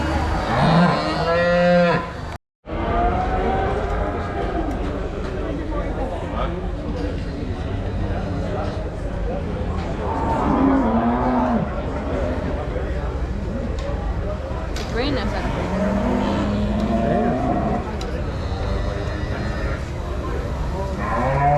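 Angus cattle moo repeatedly at the National Ploughing Championship in Ireland, their low calls rising over crowd noise while someone talks nearby.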